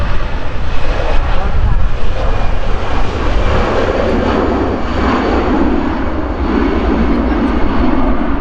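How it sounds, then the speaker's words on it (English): Virgin Atlantic Airbus A330 jet beginning its takeoff roll at Manchester Airport, a loud steady engine roar building with broadband rumble throughout, heard from a nearby spotting area. "give clearance to the Virgin Atlantic A330 to begin his takeoff roll"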